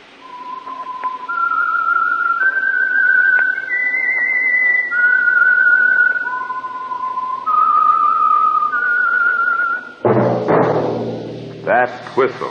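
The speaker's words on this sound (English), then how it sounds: "That whistle is your signal for the Signal Oil program, The Whistler." Whistled theme melody of The Whistler radio mystery program, a lone clear whistle rising and falling through a slow eerie tune for about ten seconds, followed by brief orchestral music at the end.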